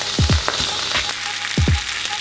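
Gyros-seasoned meat frying in a hot pan for a protein döner roll, giving a steady close sizzle punctuated by a few sharp pops and crackles.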